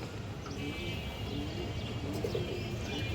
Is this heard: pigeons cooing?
yes